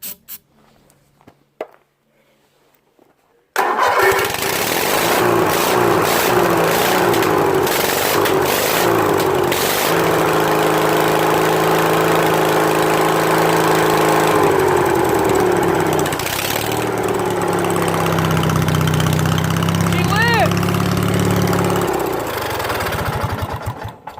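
A lawn mower engine starts after a brief quiet spell and runs loud and steady up close, its pitch shifting as the throttle changes before it cuts off near the end.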